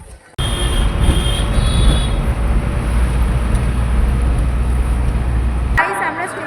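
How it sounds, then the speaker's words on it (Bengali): A train rolls loudly past a railway station with a continuous rumble of wheels and carriages, then cuts off. A voice speaks near the end. "গাইস, আমরা স্টেশনে চলে এসেছি"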